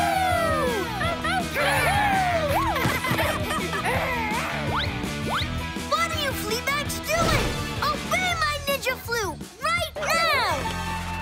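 Cartoon wolves yip and bark in quick, excited bursts over busy music, with sharp yelps and crashing hits scattered throughout.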